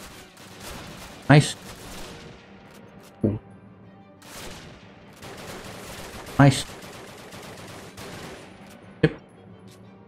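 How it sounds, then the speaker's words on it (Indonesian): Sniper rifle fire in Call of Duty 1, a World War II shooter at the V-2 rocket site: four sharp, widely spaced gunshots, loud against a low battlefield hum, with someone talking briefly in between. "Oh, kita pakai sniper guys."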